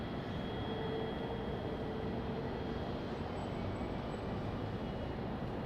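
A Southwest Airlines jet taxis at Raleigh-Durham International Airport in the evening, giving a steady broadband engine roar that holds constant throughout with no talking.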